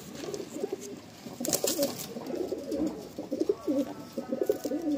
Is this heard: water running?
no